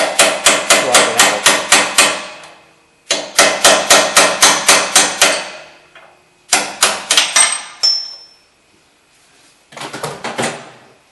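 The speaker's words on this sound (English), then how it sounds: "then you use a punch to drive it out" A hammer strikes a punch to drive out a ball joint bolt on a 1995-2002 Crown Victoria, loud close metallic blows in fast rapid runs of about eight to ten, separated by short pauses.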